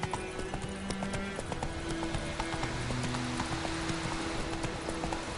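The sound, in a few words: Roach the horse's hooves clip-clopping in The Witcher 3 video game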